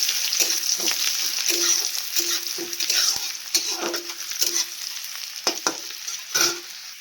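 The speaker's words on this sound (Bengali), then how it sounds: "এবার আমি পেঁয়াজ কুচিটা দিয়ে দেবো তেলে। এই যে পেঁয়াজ কুচি দেবো, পেঁয়াজগুলো হালকা করে লাল লাল করে ভাজিয়ে নেব।" Chopped onions fry in hot oil for ghugni with a continuous crackling sizzle, punctuated by regular scraping knocks of a spatula stirring against the pan.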